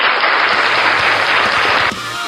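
Recorded applause sound effect played through a soundcard at a scooter gathering, a loud dense burst of clapping that holds steady for about two seconds and then cuts off abruptly.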